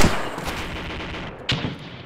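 Machine gun fire in the ArmA 2 military game, with a burst of rapid shots at the start and a sharp, louder report around the middle-late part over a dense background of battle noise.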